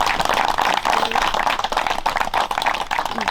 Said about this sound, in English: If you can give them a hand of applause